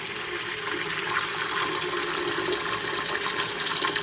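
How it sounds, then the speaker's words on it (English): Steady rush of water pouring from a tap, a continuous hiss and splash at moderate loudness with no pauses. "Turn on a little bit of cold water to make it"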